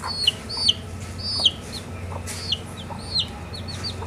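A hen clucks and squawks in short, sharp bursts, close by, with brief pauses between the calls and a low hum underneath.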